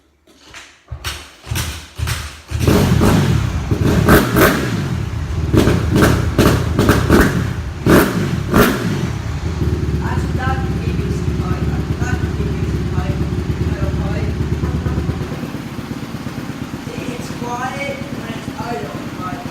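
A dirt bike engine, run without a PVC pipe fitted to the exhaust, is kicked over several times with thumping bursts before catching, then settles into a loud, close, steady idle with a few blips of revving while a person talks over it.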